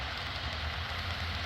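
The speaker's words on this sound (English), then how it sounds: "Let's grab this train as it goes through, folks." An HO scale model Penn Central local train running past on a layout, a quiet, steady low rumble with a faint high hum and no voices.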